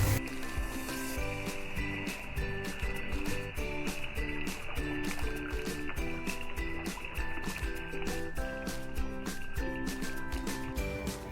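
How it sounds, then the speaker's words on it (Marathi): Water pours into a pan of cooked masala for stuffed pomfret, a steady trickling stream close by, with background music playing throughout. "आता आहे ना याच्यामध्ये पाणी टाकते मी"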